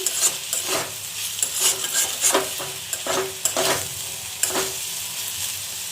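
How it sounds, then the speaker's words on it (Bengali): Potatoes frying in a pan with ghee, a steady close sizzle broken by several sharp stirring scrapes and clicks spaced through the span, with no voices. "আলুটা ভাজা হয়ে গেছে"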